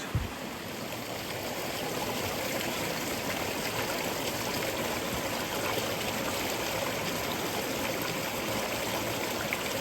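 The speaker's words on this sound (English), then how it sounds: "Oh, it's actually a bit more than a little stream." A small mountain stream in the Scottish Highlands in winter, along the West Highland Way, flows in a steady, close rushing babble that holds constant throughout with no voices.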